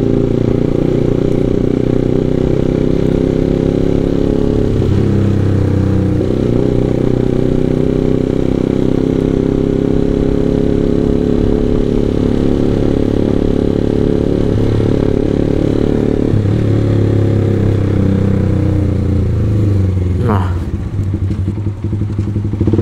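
A motorcycle is being ridden, its engine a loud, steady drone that runs the whole way through with slight shifts in pitch and a brief rise near the end; no one speaks.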